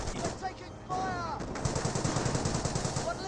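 Gunfire crackles through a Company of Heroes battle, rifle shots giving way to a rapid rhythmic burst of machine-gun fire that stutters on steadily for a couple of seconds amid ambient battlefield noise.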